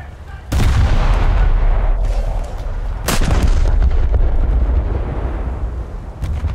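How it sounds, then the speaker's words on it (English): Heavy guns of an Italian premium dreadnought battleship in War Thunder fire in two deep, booming salvos a few seconds apart, each followed by a long rumbling roar that fills the clip. "Good hits there with the secondaries."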